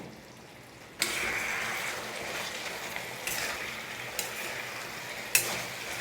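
Chicken coated in onion-garlic masala fries in a pan over raised heat, a bright continuous sizzle that jumps in after a quiet second, with a few scraping stirs punctuating it.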